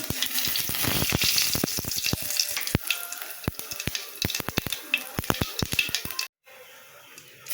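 Cumin seeds hit hot oil while cooking lentil dal with bottle gourd, producing a loud steady sizzle with rapid crackling pops, close up, that cuts off abruptly near the end leaving quieter background.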